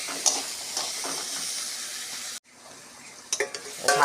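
Potato and bitter gourd frying in a covered pan hiss and sizzle steadily up close, then the sound cuts off abruptly, drops to a quieter simmer and ends with a few metal clinks.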